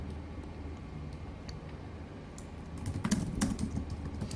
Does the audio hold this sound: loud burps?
no